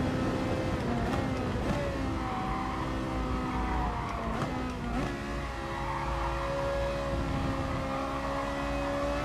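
Race car engines in a racing video game drone steadily with shifting pitch, several engines layered into a loud, constant whine as cars lap a long race, with no talking over them.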